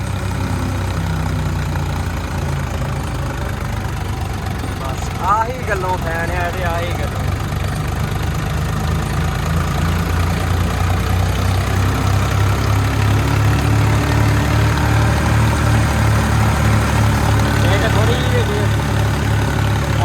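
A tractor engine runs steadily at a low, rumbling idle throughout, close and continuous, while someone talks over it.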